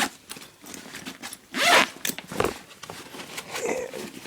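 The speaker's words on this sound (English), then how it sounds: "two large zippers." Two large zippers on the main cargo compartment of a Dutch Army military backpack are pulled open, giving several close, scratchy zip runs with one longer, louder pull in the middle, plus faint handling rustle.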